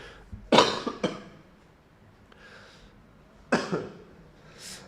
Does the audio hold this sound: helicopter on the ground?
no